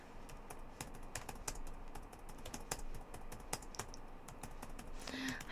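A computer keyboard is typed on in quick, irregular bursts of close, crisp key clicks, fairly faint, with no talking.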